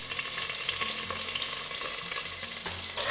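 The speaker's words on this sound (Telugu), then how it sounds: "ఉల్లిపాయలు బాగా వేగాలి" Sliced onion frying in a pot with whole spices, among them cardamom, black cardamom, shahjeera and bay leaves, for biryani; a continuous bright sizzle with occasional stirring scrapes, close and steady throughout.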